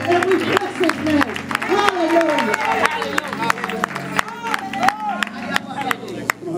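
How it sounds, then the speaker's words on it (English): A church congregation claps hands in praise, with sharp individual claps ringing out close and loud amid crowd noise, while voices call out and a sung or shouted tone weaves through the clapping. "Let's give the Lord a hand clap of praise."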